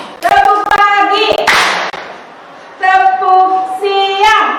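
Children clap in quick group bursts for a classroom clapping game at a junior high school, the claps loud and near and set between stretches of chanting voices; a short pause sits in the middle.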